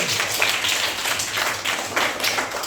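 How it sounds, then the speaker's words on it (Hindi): Students in a classroom break into a burst of clapping, a dense, fairly loud patter of many hands sustained for a few seconds with slight swells, no voices over it. "शाबाश, ताली बजाइए।"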